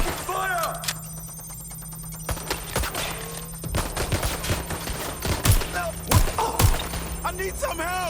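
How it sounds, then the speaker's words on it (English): Bursts of gunfire in the Watch Dogs: Legion video game crack out in a rapid series of sharp shots over a steady electronic hum, scattered beeps and game sounds, with a voice speaking in between. "I'm taking fire!"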